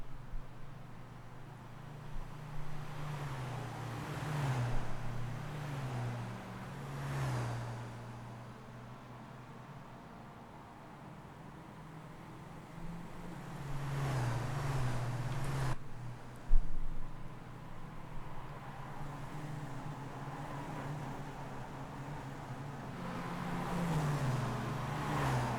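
Production racing cars in a racing video game drone steadily with engine tones rising and falling through gear changes, fairly faint and continuous, with no talk over it.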